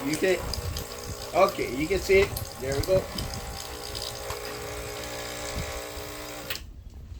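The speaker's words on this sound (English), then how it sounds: "Let's check the water pump now." A vibration pump in a Cimbali M20 Junior espresso machine runs with a steady buzzing hum and mechanical rattle, under a man's brief speech, before cutting off abruptly near the end.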